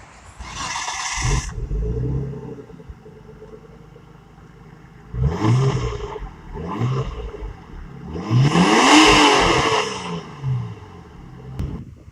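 A Nissan R33 Skyline GTS25T with an RB25DET engine drives past, revving in several separate bursts. Each rising engine howl climbs in pitch and is separated by quieter idle stretches, and the last pull is the loudest.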